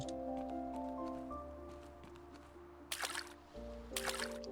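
Crops get watered in a farming market simulator game, two soft splashing water bursts rising over quiet looping background music and hum.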